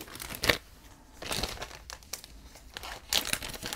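Double-sided tape for scrapbooking being pulled off its roll, soft crinkling and peeling rustles in a few brief bursts, close and fairly quiet with no talking.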